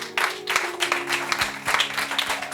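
A church congregation claps and applauds in praise, dense rhythmic clapping swelling in bursts at close range with no talk over it.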